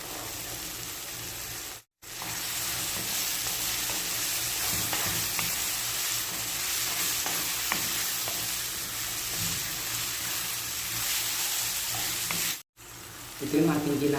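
Carrots go into a pan of sizzling goat-meat bopis and are stirred, a steady loud frying hiss running throughout with scraping stir strokes, broken by two brief silent gaps.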